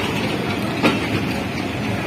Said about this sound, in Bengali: ট্রেন ছেড়ে দিল খুলনার উদ্দেশ্যে,